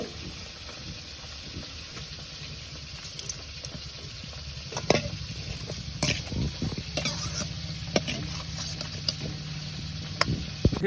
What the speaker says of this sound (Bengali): এই কয়েকটা বেগুন এগুলো হচ্ছে যে ভাজা করব মাছের তেলের উপর